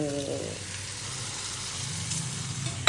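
Dal sautéing in a pan for a home-cooked meal, a steady soft sizzle running throughout with faint low clatter, a brief louder clunk at the very end.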